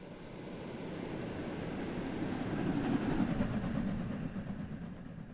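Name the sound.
train passing by in video game Train Sim World 3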